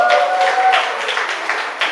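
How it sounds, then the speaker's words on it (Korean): An audience at a lecture claps together in a dense, fairly loud burst, with faint tonal sounds mixed in near the start. "우리 전국에 공부 못하는 그 수많은 학생들을 위해서 다 같이 박수를 보냅시다."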